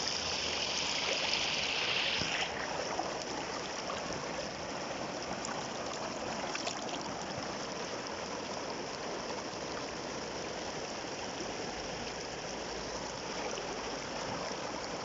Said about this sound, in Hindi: कितना खूबसूरत साफ पानी जो पहाड़ों से नीचे आ रहा है